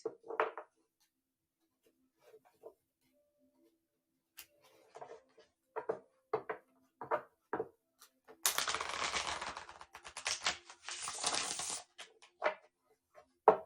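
Tarot cards shuffled by hand during a reading, heard first as scattered soft clicks and taps, then as a dense, riffling burst of card shuffling that runs for several seconds, close and fairly loud, with no talking.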